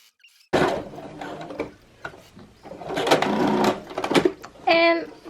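Sewing machine stitching slowly through beads on a skirt, close bursts of mechanical whirring that stop and start, with a person talking over parts of it.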